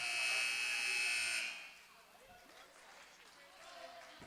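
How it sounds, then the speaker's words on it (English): Buzzer sounding in a gym at a girls' high school volleyball match, a loud steady tone for about a second and a half before cutting off, followed by crowd noise and scattered thuds. "The buzzer went off"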